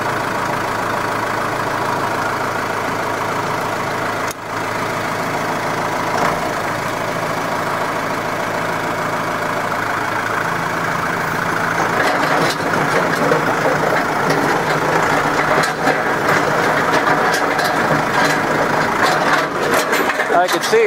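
Tractor engine set to about 700 RPM in first gear, pulling a box blade over a gravel driveway, gives a steady low drone that turns rougher with scraping toward the end.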